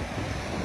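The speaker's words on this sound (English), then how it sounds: "And listen to that ocean roar." Ocean waves roar at Sunset Cliffs in San Diego, a brief, loud, broad wash of surf mixed with wind buffeting the microphone, with no voices.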